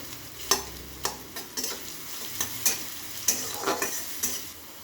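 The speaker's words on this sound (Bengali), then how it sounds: "আলুটাকে আমি একটু লাল লাল করে ভালো করে ভেজে নেব।" Potatoes frying in a pan are stirred repeatedly, giving a steady sizzle broken by sharp scraping knocks of the utensil against the pan, several per second-long stretch, close and moderately loud with no talking.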